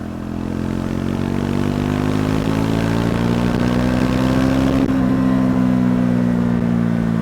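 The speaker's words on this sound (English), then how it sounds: "how does the bike overtake and how does it accelerate in those sort of gears" A Triumph Scrambler 400 X motorcycle engine drones steadily throughout, accelerating in fourth gear from 40 to 60, its pitch slowly climbing and then settling as the bike pulls harder; no voices.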